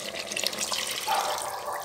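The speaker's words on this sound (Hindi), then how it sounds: "थोड़ा सा पानी डालूंगी" Tap water pours steadily into a cooking pot during home preparation of a chicken dinner with green chilies, a short continuous hissing splash heard alone and close.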